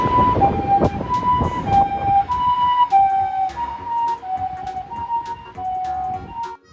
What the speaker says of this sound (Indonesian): 4. Mobil ambulan.